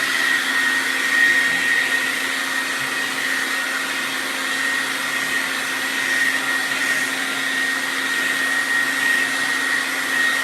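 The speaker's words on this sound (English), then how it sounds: "And I'll blow dry." A hair dryer blows hot air onto hair, a loud, steady whine with a constant high tone that holds unbroken for the whole stretch, with no talking.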